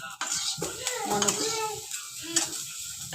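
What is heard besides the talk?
raisins sizzling while roasting in ghee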